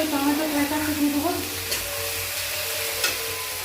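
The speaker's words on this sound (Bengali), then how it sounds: "এরপরে কিছুক্ষণ নাড়তে হবে কড়াই" Spiced mixture frying in a kadai while being stirred, a soft sizzle with scraping strokes and a couple of sharp utensil clinks, quiet and close with no talking.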